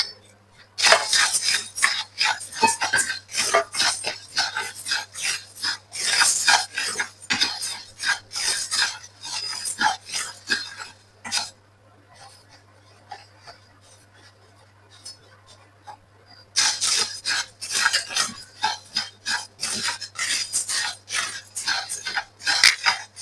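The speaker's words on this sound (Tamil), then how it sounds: "இதே சட்டியில நாங்கள் உளுந்த வறுத்து எடுத்துக் கொள்ளுவோம்" Urad dal is dry-roasted in a pan, with a dense run of rapid scraping and clattering stirring strokes, a quiet pause, then the brisk scraping resumes close by.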